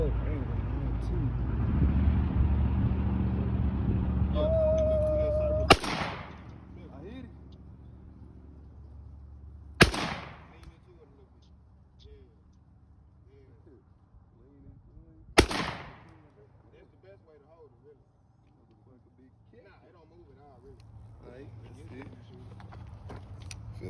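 An upgraded AR pistol fires three sharp, loud shots spaced several seconds apart, each cracking over a rumbling background, with people talking nearby in the opening seconds.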